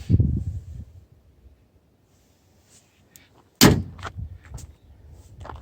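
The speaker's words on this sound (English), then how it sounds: "Let me open the door here so you have a better shot." Door of a Yamaha RMAX 4 1000 side-by-side being opened: a low thump, a quiet pause, then a sharp close latch clack followed by a brief rattle.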